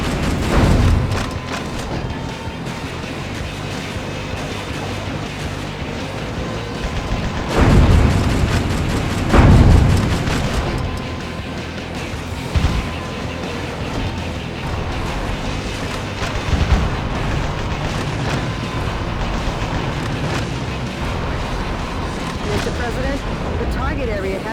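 Explosions blast apart a target area in Metal Wolf Chaos XD, booming in heavy bursts around 8 and 10 seconds over dense, continuous game combat noise.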